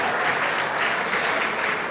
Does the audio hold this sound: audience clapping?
yes